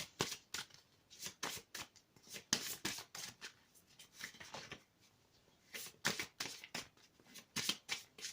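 Oracle cards are shuffled by hand close up, making quiet, rapid riffling bursts in irregular clusters with short pauses between them.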